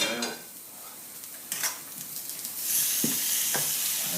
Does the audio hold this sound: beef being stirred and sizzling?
yes